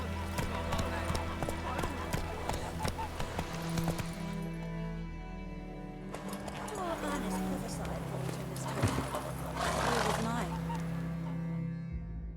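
Roach the horse from the video game Witcher 3 gallops with a steady, continuous clip-clop of hooves under game music and ambience, while voices talk over it.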